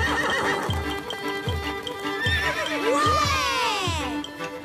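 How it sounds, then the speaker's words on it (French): Cartoon horses whinny in high, wavering neighs over a rhythmic clip-clop of hooves, the hoofbeats evenly spaced and close, with a long rising-and-falling neigh in the middle. "Nos chevaux!"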